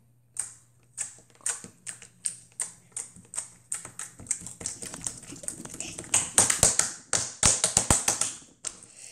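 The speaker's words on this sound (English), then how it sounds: "let's hear the clicking noise really slowly" Slime is squeezed to make a run of sharp, close clicking pops, spaced evenly at first and then quicker and louder in dense bursts toward the end.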